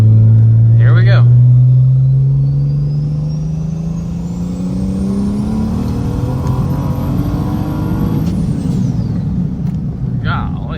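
A big single-turbo BMW 335i with manual gearbox and anti-lag pulls hard through third gear, engine note climbing loudly under a rising turbo whine, then the throttle lifts with a short blow-off hiss, with talk heard briefly at the start and end.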